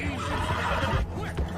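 A horse in Red Dead Redemption 2 whinnies in a loud, close, wavering neigh that rises and falls over a second or so, over faint background game sounds.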